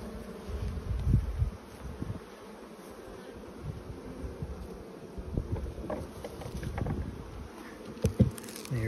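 Bees buzz around a hive in a dense, steady drone, with individual insects passing close at times, and some low rumbling in the background.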